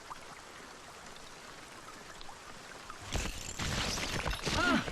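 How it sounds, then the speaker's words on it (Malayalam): Heavy rain in a Malayalam film scene, a steady dense hiss that swells louder and fuller over the last two seconds, where a brief voice-like tone rises over it. "നല്ല മഴയല്ലേ"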